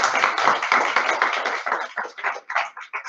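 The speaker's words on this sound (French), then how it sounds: "On peut les applaudir." Applause from an audience at a school information evening welcoming two mathematics teachers, a short burst of clapping that thins out into scattered, separate claps toward the end.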